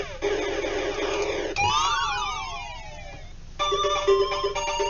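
Chiptune intro music from a BBC Micro video game, with bright square-wave melodies, a warbling falling-and-rising sweep in the middle, and a busy arpeggiated passage at the end, loud and with no voices.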